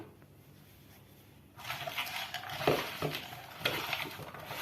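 Chunks of potato and chicken rubbed together by hand with salt, pepper and cumin in a baking tray, starting after a quiet lull with wet squelching, clattering and light scraping against the tray.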